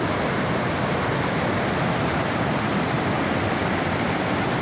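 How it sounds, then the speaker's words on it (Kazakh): Mudflow floodwater rushes through a village street in a steady, loud, broadband roar with no pauses, like a torrent close by. "Мына бияктан да көчөнү да суу каптап атат."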